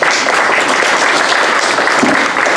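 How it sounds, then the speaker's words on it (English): An outdoor crowd at a peace-themed opening gathering claps and cheers, a dense, loud, even wash of applause lasting the whole stretch. "Give yourself a nice round of applause for coming out here."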